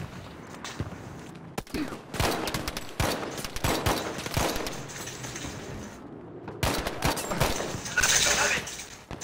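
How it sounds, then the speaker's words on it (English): Enemy gunfire in a shooting video game, bursts of shots and rattling fire with footsteps and mechanical clicks mixed in, loud and close in stretches, with a player talking over parts of it. "I hear him taking pop shots at us too"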